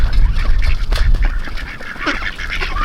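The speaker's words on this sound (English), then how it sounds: "Come on, ducks." Ducks quack in a busy, overlapping chorus close by at an off-grid homestead during morning feeding, with a low background rumble.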